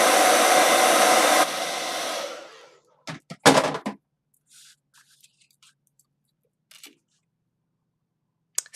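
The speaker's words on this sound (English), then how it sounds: "We'll hit that with a blow dryer for a quick second." A blow dryer whirs loudly on wet gesso on a painting for about two seconds, then winds down, followed by a few quiet clicks and handling taps in near silence.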